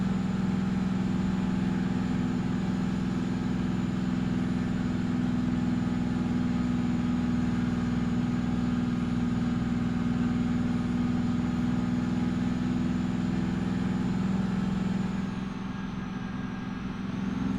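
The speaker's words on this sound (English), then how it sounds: "Love how this engine sounds" Diesel truck engine, a Detroit 12V71 in a Freightliner FLD hauling in American Truck Simulator, drones steadily and loudly throughout with a deep low hum, easing slightly near the end, with no talk.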